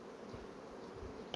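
Honeybees humming at the entrance of a hive during nest relocation for pollen collection, a faint continuous buzz close by, with no voices.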